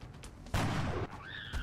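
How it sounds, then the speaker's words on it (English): Burst of gunfire in the video game XCOM: Enemy Unknown, a short harsh volley of about half a second followed by a rising electronic tone, fairly faint overall. "Hostile fire incoming"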